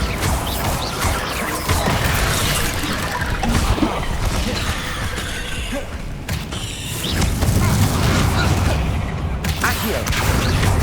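Bombarda blasting-spell explosions in the Hogwarts Legacy video game, dense crashing bursts and debris over a loud, continuous battle din that never lets up.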